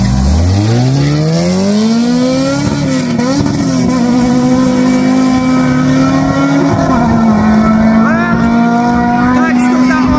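A Honda S2000 and a 2ZZ-engined Toyota Celica scream off the line in a drag race in Montserrat, the loud engine rising steeply in pitch through the gears, then holding a high steady wail, with faint voices underneath.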